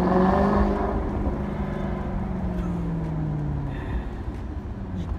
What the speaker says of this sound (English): just to hear that symphony that bellows out from that two amazing oval exhausts